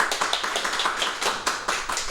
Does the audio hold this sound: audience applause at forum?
yes